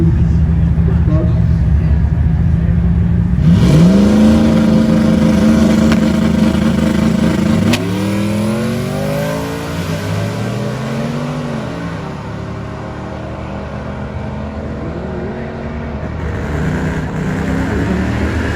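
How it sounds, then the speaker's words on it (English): A turbocharged Mustang GT drag car roars and revs hard as it accelerates down the quarter-mile, with wind-like rumble and a rising turbo whine, then fades into the background noise. "Keep an eye on this Mustang here in the near lane. Looking at all the turbo sounds, the noises"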